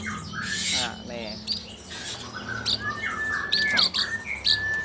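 Caged pet songbird calling, a run of bright chirps, squawks and whistled notes in short bursts with pauses between them, close and clear, with faint talk in the background.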